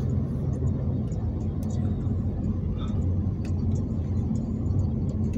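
A car drives through a residential neighborhood in South Florida, its steady low engine and road rumble continuous and fairly loud from inside the vehicle, with faint voices now and then.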